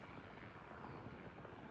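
A crop-dusting helicopter spraying pesticide over farmland in north central Illinois gives off a faint, steady drone of engine and rotor with wind noise, and no voices are heard.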